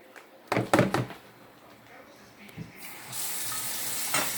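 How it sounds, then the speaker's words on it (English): A few sharp knocks and clatters are followed by a steady hiss of running water being poured into cod fritter batter in a bowl. "so I'm putting in another cup of water"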